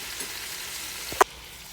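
Chicken thighs sear in an iron skillet with a steady, even sizzle. A single brief clatter or scrape comes near the end, then the frying settles back into a quieter hiss.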